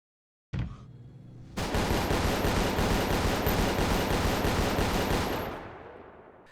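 Mech guns in the game Goobstation fire in a dense, continuous rapid burst lasting several seconds after a single sharp opening shot, loud and alone, fading out at the end.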